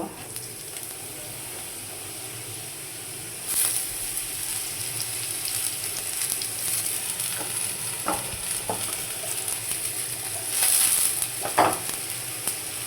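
Potatoes go into a pan of spice paste fried until brown, giving a steady loud sizzle with a few stirring scrapes and clatters near the end, and no talking.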